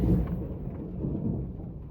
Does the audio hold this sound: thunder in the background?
yes